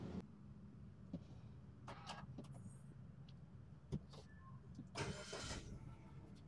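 A 2018 Suzuki Baleno automatic hatchback is heard faintly in a quiet cabin with a few soft clicks and switch sounds. Its engine then cranks and catches, settling into a low, steady idle.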